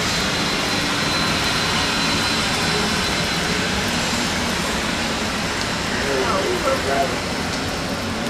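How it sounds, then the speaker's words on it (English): A jet taxiing on a wet taxiway at Dallas Love Field on a rainy morning gives a steady, loud broadband engine roar that holds throughout, with rain noise and faint talk mixed in. "This jet's coming on this taxiway."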